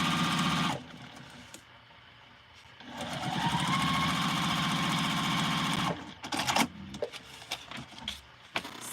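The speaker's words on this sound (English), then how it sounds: "And we're going to stitch this one in." A sewing machine runs a quilt seam in two bursts, a close steady whirring stitch with a brief pause between, then fabric handling and light clatter as the run ends; no speech.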